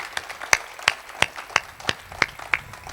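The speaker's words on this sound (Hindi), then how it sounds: "एक बार जोरदार तालियां हो जाएं पॉपुलर भाई के लिए।" Sparse, rhythmic hand claps at a Hindi poetry recital (kavi sammelan) in Ghaziabad, about seven sharp claps spaced roughly a third of a second apart, moderately loud with no voices over them.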